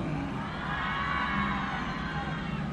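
A large crowd at a live performance roars and cheers in a dense, continuous wash of voices, steady and fairly loud for a few seconds.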